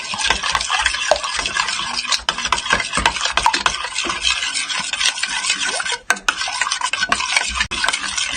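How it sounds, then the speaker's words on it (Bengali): An egg is beaten into flour batter soaked overnight for pitha, a continuous brisk scraping and rasping of a utensil against the bowl, close and busy with occasional clinks, no voices. "ডিমটা আমি একদম ভালো করে মিশাই নিচ্ছি, মিক্স করে নিচ্ছি"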